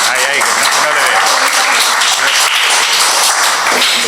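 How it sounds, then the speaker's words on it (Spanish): An audience applauds at a literary talk event, the clapping running loud and steady under a voice that keeps talking over it. "fuerte aplauso para él"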